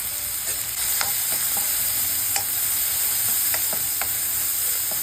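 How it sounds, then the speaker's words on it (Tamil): Onions sautéing for Mumbai-style pav bhaji, a dense continuous sizzle close to the pan, punctuated by sharp spatula taps and scrapes at irregular intervals, with no one speaking. "இந்த ஆனியன் நல்லா வதங்கிச்சு."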